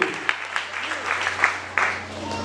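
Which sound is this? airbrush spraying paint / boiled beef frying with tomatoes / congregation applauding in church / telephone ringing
congregation applauding in church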